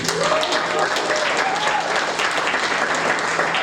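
A crowd at a tribute evening applauds a couple celebrating their 50th wedding anniversary, the dense, sustained clapping loud and continuous while a voice carries on over it.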